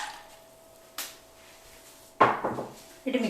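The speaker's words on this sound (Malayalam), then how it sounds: "നമുക്ക് കുറച്ച് ഐസ് ക്യൂബ് ഇട്ട് കൊടുക്കാം." Ice cubes dropped into a mint lime mix in a vessel, heard as three separate close knocks and splashes with short pauses between them.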